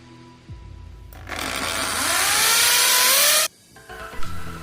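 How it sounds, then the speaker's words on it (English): A Bosch GSB 600RE electric drill spins up loud and steady for about two seconds with a rising motor whine, then cuts off abruptly, close by with no talk. "You are now set to drill."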